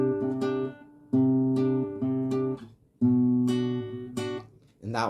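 Plucked guitar chords on an introductory lesson, a short progression strummed in several sustained bursts with brief gaps as the fingers shift between shapes, close and clear with no talking.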